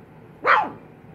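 One short, clear dog bark at close range, standing out alone against a quiet room.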